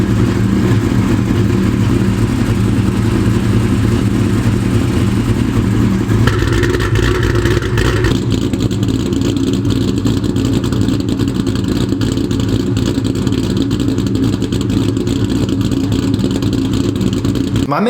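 A car engine with a ported Eaton supercharger revs hard on a dyno in a loud, continuous roar. It builds and shifts tone about a third of the way through, then holds strong until a sudden cut at the end.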